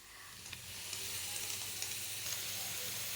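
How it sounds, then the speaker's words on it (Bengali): Spices sautéing in a pan for a fish curry hiss in a continuous close sizzle, with faint scraping stirs and small pops scattered through it. "আবারও ভালোভাবে একটু কষিয়ে নিচ্ছি"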